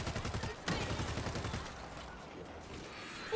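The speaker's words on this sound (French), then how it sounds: "Oh, mitrailleuse arme longue." Machine gun fire in the zombie shooter World War Z, a rapid, even burst of loud shots for about a second and a half, then fading into a softer, rumbling tail.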